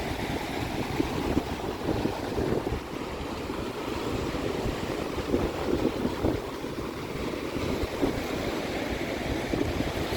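Big waves crashing along the Portage Riverwalk shore on Lake Michigan in Indiana, a continuous rough roar of surf close by, overlaid with buffeting wind noise on the microphone and no voices.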